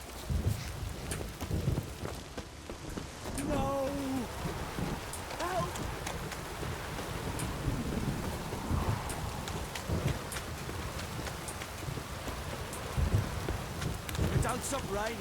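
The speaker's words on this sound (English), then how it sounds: "This downpour's a bastard," Heavy rain pours steadily in The Witcher 3: Wild Hunt, with dense hiss and patter, scattered rumbles of thunder and a few faint clip-clop sounds, at moderate, even loudness with no clear speech.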